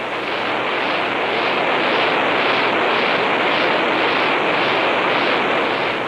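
An X-15 rocket engine roars steadily in a ground test run in 1960, a loud continuous broadband blast with slight rhythmic pulsing and no pauses.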